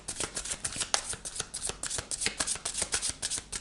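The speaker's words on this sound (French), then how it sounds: "je vais tirer 2 cartes" A deck of tarot cards shuffled and handled close up, a quick steady run of crisp riffling flutters that carries on without a break and with no speech.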